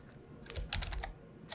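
Soft, quick keystrokes on a computer keyboard, a short cluster of clicks with a slightly louder tap at the end, heard alone in a quiet room.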